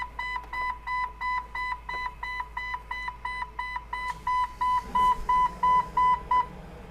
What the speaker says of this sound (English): Why is it beeping? Because the key's in the ignition.